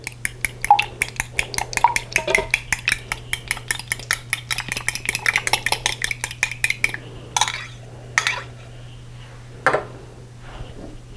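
Fork beating four large eggs in a bowl, a fast run of sharp, close clicks and taps against the bowl with a steady low hum underneath, giving way to a few scattered louder knocks near the end.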